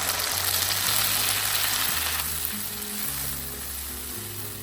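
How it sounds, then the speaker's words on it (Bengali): Butter and onion paste sizzle in a kadai, a loud, steady close frying hiss that eases slightly partway through, with faint low tonal sounds underneath. "তো এবার কড়াইতে বাটার দিয়ে দিয়েছি।"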